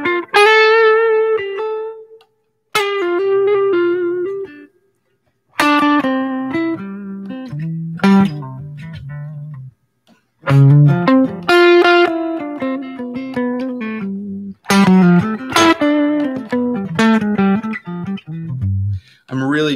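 Slide guitar tuned to open C playing short melodic phrases aimed at chord tones, gliding notes separated by brief pauses, close and clear with no talk.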